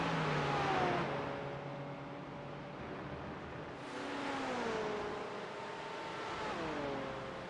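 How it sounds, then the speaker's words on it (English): An AMG Mercedes race car engine at Road Atlanta climbs through the revs, with rising and falling pitch sweeps as it shifts and pulls away, moderately loud with a faint broadband hiss underneath. "Robert Snar puts the power down early. The grunt of the AMG Mercedes."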